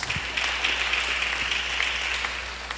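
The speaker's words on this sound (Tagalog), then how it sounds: "Palakpak." An audience claps together in a steady, moderately loud burst of applause at a church gathering, continuous for a few seconds with no voices over it.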